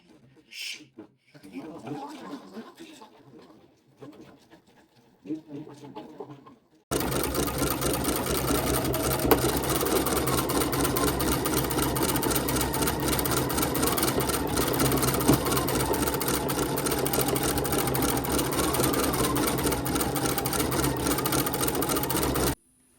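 An embroidery machine stitches a free-standing lace square doily with a fabric insert, a loud, steady, rapid mechanical whirring and clatter that runs unbroken for most of the stretch after a quieter opening with some talking.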